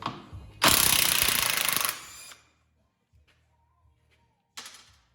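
A power tool, likely an impact driver, rattles hard for about a second and a half while pulling the swingarm bolts on a Harley bagger. A few faint clicks and taps follow, then a second short burst near the end.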